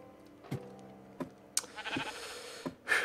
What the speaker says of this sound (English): oh, it's a friendly sheep